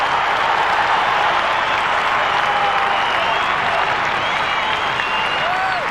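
Australian Rules football crowd at a 1999 AFL match between Melbourne and Fremantle roars and cheers after a goal kicked from 40 metres out, a loud, steady wash of crowd noise lasting throughout.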